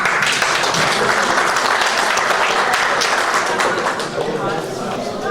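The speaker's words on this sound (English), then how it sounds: "Can we just have a round of applause for the mentioned names?" A crowd gives a dense, sustained round of applause at a community welcome gathering, many hands clapping together steadily and loudly for several seconds without a break.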